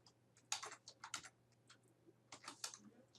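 Typing on a computer keyboard while coding JavaScript, heard as close, quiet bursts of crisp key clicks in uneven clusters with short pauses between.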